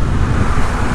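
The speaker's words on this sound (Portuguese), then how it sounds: "Ó, tá vindo um carro ali." A car passes close by on a road, a loud broadband rush of engine and tyre noise, heard from a Honda ADV 150 scooter travelling between Recife and Caruaru.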